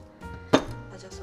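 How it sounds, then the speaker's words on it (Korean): A single sharp knife chop through whole almonds and cashews on a cutting board, one crisp strike amid quiet kitchen background. "제가 지금 집에 통아몬드만 있어가지고요. 이렇게 다져서 넣도록 할게요."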